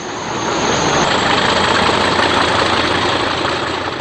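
A British Railways Class 40 diesel locomotive, number 40-026, on a mixed freight to Warrington at Manchester Victoria, with a heavy, steady engine drone that rises in and continues loud and close without speech.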